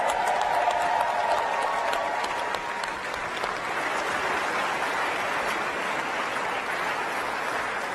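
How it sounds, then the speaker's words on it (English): A large crowd at the live introduction of the Artemis II astronauts claps loudly and continuously, a thick, sustained wave of applause that eases slightly midway but keeps going to the end. "Let's give them another round of applause."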